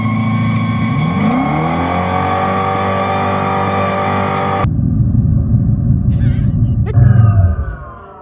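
A Banshee sports car's engine drones loud and close at one high, nearly unchanging pitch, as if stuck in the same gear, then cuts off abruptly into rough rumbling and a brief rev that fades out.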